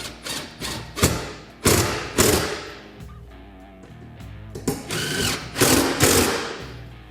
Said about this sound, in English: Then we'll just go ahead and fully tighten our hardware here.